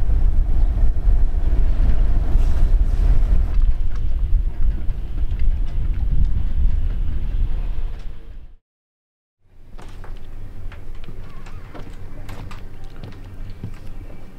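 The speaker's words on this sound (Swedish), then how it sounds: "I slutet var det allt mindre vind och vi guppade långsamt framåt." A sailboat moves slowly forward in light, fading wind on the open sea toward Germany, with steady wind and water rush and low hull wash, a brief full dropout midway, then quieter water and creaking sounds.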